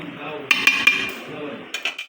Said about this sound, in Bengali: গোলাপ জলটা দিয়ে দিচ্ছি, নাড়াচাড়া করে ঢেকে দিব।